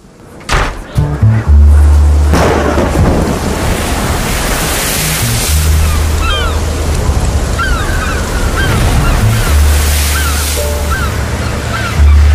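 Storm effects for a King Lear audio drama: loud, continuous rushing wind and surf-like roar with deep rumbling swells, faint high cries over it, steady and close throughout without speech.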